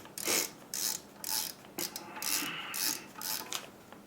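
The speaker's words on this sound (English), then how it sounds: "3 screws. Let's get a screwdriver." Small screws being turned out of a QNAP TS-470 Pro NAS case with a screwdriver, giving a series of close, scratchy grinding bursts in an uneven rhythm, roughly six or seven turns with short pauses between them.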